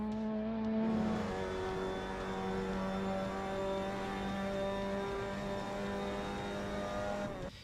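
A Mazda MX-5 Cup race car in the Assetto Corsa sim laps Sebring, its engine holding a steady high-revving drone from the cockpit, briefly easing before settling into a constant loud whine.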